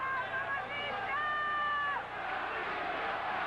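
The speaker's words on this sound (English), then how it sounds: "this crowd chanting Patricio Kalambay's new name, love what they see" A boxing arena crowd chanting during a championship bout, a sustained roar of massed voices with rising and falling chant tones, loud and continuous with a commentator's voice over it.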